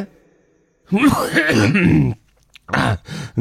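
A person clears their throat with a rough, drawn-out cough, followed by a few shorter harsh coughs.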